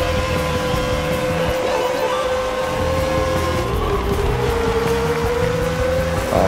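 A race car engine in a Northampton Grand Prix racing video game drones loudly and steadily throughout, its pitch gliding gently, with no talk over it.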